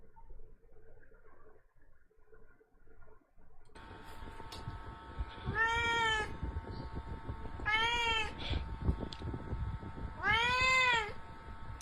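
A cat meows three times, long wavering cries spaced a couple of seconds apart, loud and close over a low background hum.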